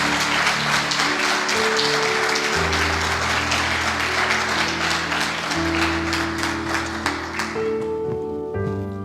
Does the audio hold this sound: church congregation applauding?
yes